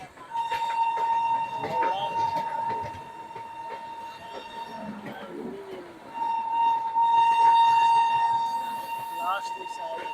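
Sealdah to Ballia express train with a new LHB rake, a steady rumble and rattle of passing coaches under a constant tonal whine, with birds and pigeons nearby and voices talking over it.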